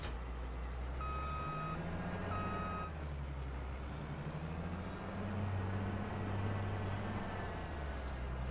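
A truck in Farming Simulator 25 rumbles past with a low engine drone, and intermittent reversing beeps ring out over the steady hum of the game's vehicle sounds.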